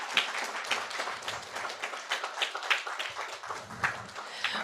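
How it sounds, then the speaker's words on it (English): Audience applause at the close of an online presentation, a soft, steady patter of scattered claps with sharp individual hand strikes standing out, faint and fairly distant throughout. "A round of applause,"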